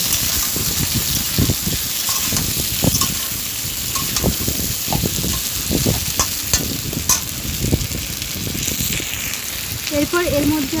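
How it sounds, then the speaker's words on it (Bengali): Stirring potatoes, pointed gourd and homemade sesame bori in a curry frying in a pan, with steady sizzling and repeated scraping stir strokes close by, a brief clink near the end. "ঢাকনা তুলে নিয়ে আরেকটু আমি নাড়াচাড়া করে নিচ্ছি"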